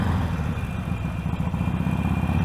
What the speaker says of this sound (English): The first thing about any Harley Davidson is its exhaust note.